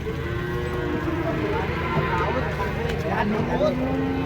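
A cow moos nearby, low and drawn out, amid outdoor background noise and people talking at a livestock market.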